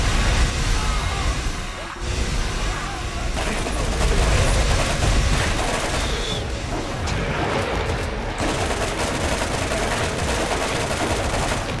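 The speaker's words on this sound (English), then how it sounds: "Grenade." Grenade blasts and rapid gunfire in the video game Borderlands, a loud, continuous barrage of shots and crashing impacts with little letup.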